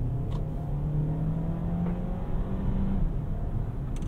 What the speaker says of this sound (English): let's head out in the all-wheel drive Taos. So foot down,